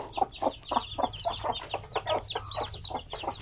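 Zampen hen clucking with her many chicks, a steady run of close, rhythmic clucks with high, thin chick peeps chirping over them, no voices.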